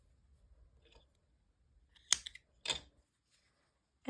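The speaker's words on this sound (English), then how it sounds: "and cut your yarn" Scissors snip through yarn after a crochet piece is fastened off: two distinct crisp cuts about half a second apart in an otherwise quiet room, with faint handling noise before them.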